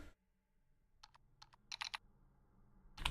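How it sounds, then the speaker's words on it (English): Quick bursts of computer keyboard typing during a hacking video game, a few crisp separate keystrokes, then a rapid cluster of clicks and a final burst, close and clear over a quiet background. "Oh my god, I wish I was faster at typing."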